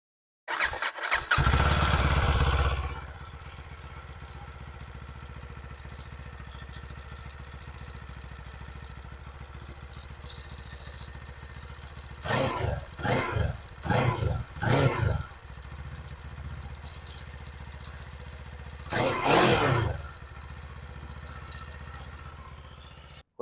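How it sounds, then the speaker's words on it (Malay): A Kawasaki Eliminator 500 motorcycle starts with a loud burst and settles into a low idle, then its exhaust barks through four quick revs in a row, drops back to idle, and gives one more long rev near the end. "So kita tengok bunyi exhaust untuk Eliminator ni macam mana."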